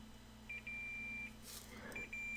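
A multimeter continuity tester beeps on circuit leads, giving faint, thin, steady tones of different lengths over a quiet background hum.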